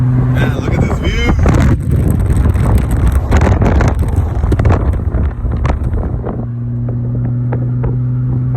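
A BMW Z3 sports car cruises down a road. Its engine rumbles steadily under heavy wind buffeting, and bursts of wind noise and a voice break in before the car settles into a smoother hum.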